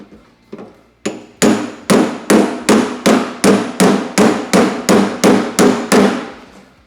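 Steady hammer blows on a car door's sheet-metal skin, about a dozen sharp metallic strikes in an even rhythm, loud and close.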